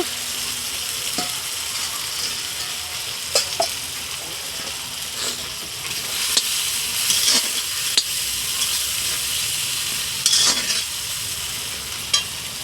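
Chopped tomatoes and ginger paste frying in a pan with cumin, a continuous close sizzle and hiss with scattered clicks and scrapes of stirring, no talk.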